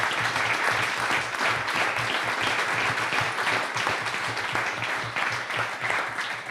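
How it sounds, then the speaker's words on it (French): A hall full of people at an evening community council gathering applauds elected colleagues, sustained dense clapping with a faint rhythmic patter and low murmur beneath, continuing without letup. "Si on peut les applaudir."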